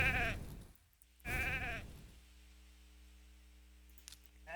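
Two loud sheep bleats from the RAID game, the first starting right away and the second at about a second and a half, with a low steady hum continuing afterwards.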